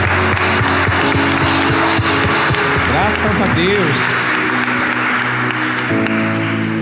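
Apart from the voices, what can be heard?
church congregation applauding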